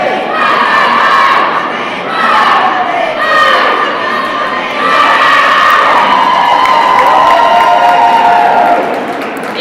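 Indoor crowd at a netball world cup final, loudly chanting and shouting an Australian cheer in rising, rhythmic waves close by that fill the whole stretch.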